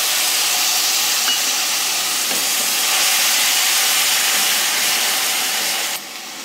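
Tomato paste from two medium tomatoes hitting browned onions in a hot pan, a loud, steady sizzling hiss that drops slightly in level near the end, with no talking.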